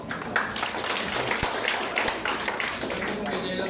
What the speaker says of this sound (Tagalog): Isa muna po palakpak para sa pagkakas.